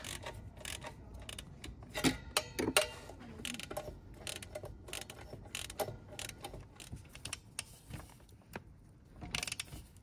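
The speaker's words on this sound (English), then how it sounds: "We've now tightened the nuts on the headers evenly" Ratchet tightening header nuts on a 2022 Yamaha XSR900 Kelpi exhaust, with a steady run of close mechanical clicks and occasional creaks that keeps going without pauses and has no talking over it.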